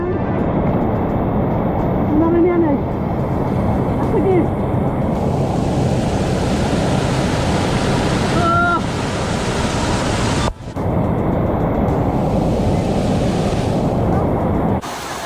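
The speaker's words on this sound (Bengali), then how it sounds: "শব্দ বলতে শুধু পাহাড়ি ঝর্ণার সুরলাহরি" Mountain waterfall in South Korea, heard as a loud, steady rushing roar of falling water close by, constant throughout with brief faint voices in the background.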